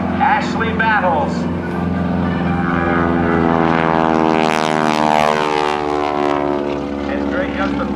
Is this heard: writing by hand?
no